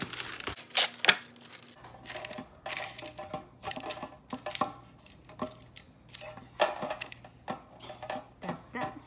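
Parchment paper is handled in a greased bread pan while baking banana bread, making a series of close, irregular crinkles and rustles with short crisp bursts and brief gaps.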